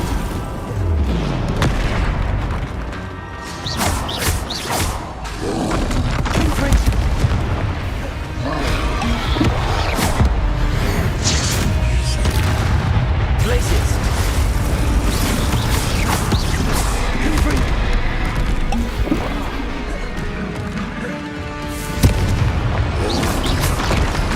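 Magical Confringo and Flipendo spell blasts in Hogwarts Legacy, a dense, loud, continuous barrage of booming explosions and crackling impacts.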